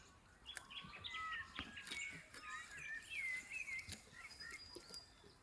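Birds sing in Central Victorian woodland on an Australian smallholding in morning sun, several chirping and whistling calls overlapping at a gentle distance over a quiet, faintly hissing background with no talk.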